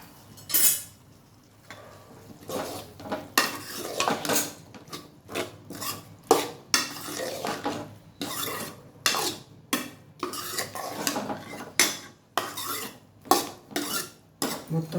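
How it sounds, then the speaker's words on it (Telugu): Spoon stirring eggplant and coconut curry in a metal pan, with repeated scraping and clinking strokes at a steady, brisk rhythm, close and fairly quiet. "ఇప్పుడు మొత్తం ఒకసారి కలిపెట్టుకుందాం"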